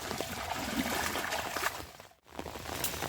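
Floodwater flowing from a village toward rice fields rushes and trickles in a steady, moderately quiet wash, dipping briefly to near silence before resuming, with no voices.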